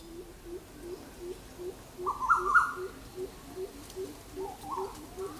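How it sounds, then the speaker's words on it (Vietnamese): A dove coos in a wild forest, a steady series of soft, low calls repeating about twice a second throughout, with a brief, brighter call rising above them midway. "Chim cụ đây cơ."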